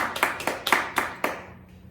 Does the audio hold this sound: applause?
yes